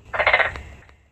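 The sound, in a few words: frogs or toads croaking at night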